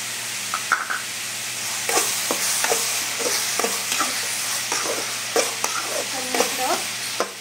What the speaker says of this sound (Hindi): एक मिनट भूज देबै लहसुन डालला के बाद